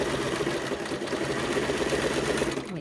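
A sewing machine runs steadily while stitching a memory cushion, a close, continuous mechanical whirring hum lasting the whole moment with no talking.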